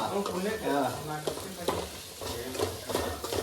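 Chicken curry gravy: oil sizzles and crackles steadily in a pan while a spoon scrapes and stirs, with voices talking nearby.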